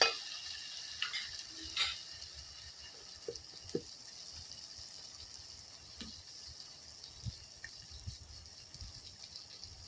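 Garlic paste frying and being stirred in a pan for mutton curry, a steady soft sizzle with occasional scraping clicks of the spoon, quiet and close.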